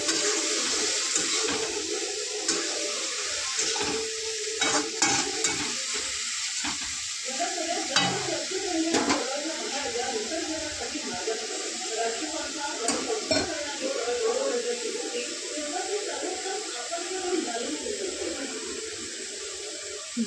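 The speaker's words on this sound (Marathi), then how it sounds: "भाजी जरा परतून घेऊयात त्या तेलामध्ये" Dill greens stir-fried in hot oil give a continuous sizzle, broken by frequent clinks and scrapes of a spoon against the pan as the leaves are tossed.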